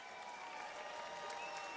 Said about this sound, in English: big round of applause for both these ladies